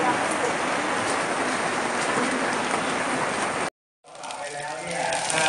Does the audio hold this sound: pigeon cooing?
no